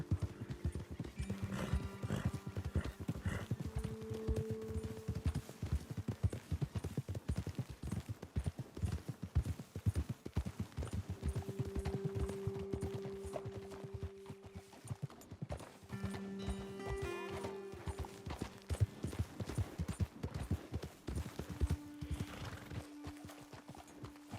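Horses ridden over ground in the video game Red Dead Redemption 2, steady rhythmic clip-clop of hooves close by with occasional whinnies, under soft sustained music.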